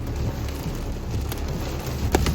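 Heavy hail or rain-like pelting drums steadily on a car's roof and windshield during a storm while travelling, a dense continuous patter with a few sharper louder impacts near the end.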